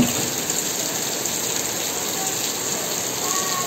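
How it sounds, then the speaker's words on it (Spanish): Constant heavy rain pouring down in Madrid, a thick, even wash of noise with no pauses and no voices. "está lloviendo fuerte"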